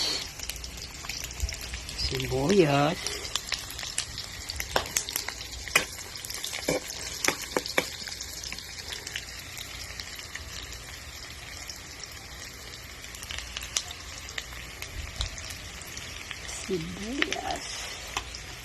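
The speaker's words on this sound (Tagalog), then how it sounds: "Igisa ko yung kamatis at saka yung sibuyas." Tomato and onion sautéing in a pan alongside browned pork for a radish dish: a soft, steady sizzle with intermittent clicks and scrapes of stirring, and a voice speaking briefly now and then.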